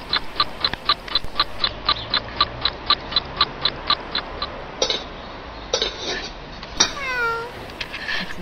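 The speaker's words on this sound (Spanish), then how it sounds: "Quieta, esta gata siempre piensa que le voy a dar comida." A cat meows repeatedly for food, with several drawn-out cries near the end, behind a fast steady ticking clock and a quiet room tone.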